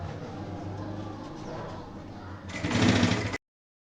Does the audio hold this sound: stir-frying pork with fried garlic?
no